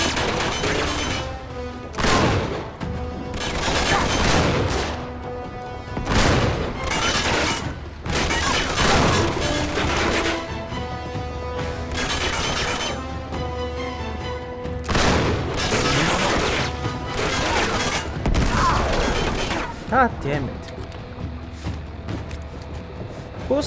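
Heavy explosions and repeated gunfire fill a shipyard battle in Uncharted 3: Drake's Deception, booming grenade blasts mixed with sustained volleys of shots, loud and continuous over about twenty seconds.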